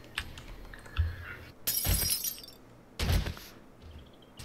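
Glass shatters in the 7 Days to Die video game, with bright crashing bursts that follow dull thuds. Two or three separate breaks land over a quiet background, loud and close.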